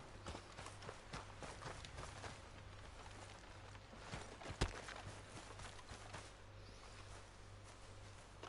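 Horse hooves clip-clopping in the video game Red Dead Redemption 2, a quiet, steady walking rhythm of hoof strikes over a low engine-like hum, with one sharper thud midway.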